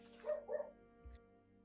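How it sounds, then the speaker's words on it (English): A dog next door gives two quick, faint barks in succession, distant and muffled in an otherwise quiet room. "Apologies for the dog barking next door."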